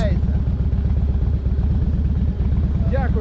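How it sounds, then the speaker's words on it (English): A Harley-Davidson Softail rumbles along a rough country road in Spain, its low engine drone and road roar steady and loud throughout, with only faint hints of anything else. "Definitely not suited for a Softail. But the bike handles it."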